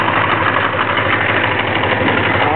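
Honda Magna V65 motorcycle engine idling cold on choke, a close, loud, steady rumbling drone with an even pulsing texture and no talking.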